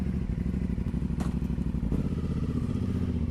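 An Aprilia Dorsoduro 900 motorcycle idles and pulls away, a loud, close engine rumble with a rhythmic throb, a clatter and a slight rise in revs as it sets off.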